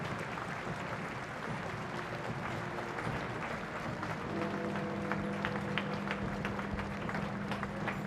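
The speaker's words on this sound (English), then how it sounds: "the applause from the pavements swelled." Crowds lining the pavements applaud as a royal funeral cortege approaches Parliament Square and the Palace of Westminster, a broad, distant wash of continuous clapping that swells steadily, with faint steady tones running beneath it.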